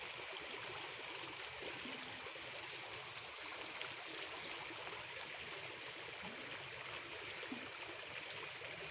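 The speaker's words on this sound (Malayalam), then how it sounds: "ഭംഗിയായി വെള്ളം ഒഴുകി പോണ കാണാൻ." A small stream flows steadily, a soft continuous rush and trickle of water, fairly faint and unbroken throughout with no voices.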